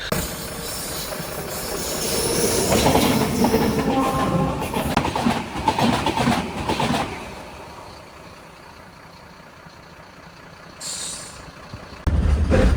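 A Konkan Railway RO-RO train carrying lorries rumbles along the rails, loud and close at first with clattering and hissing, then fading to a quieter, distant rolling.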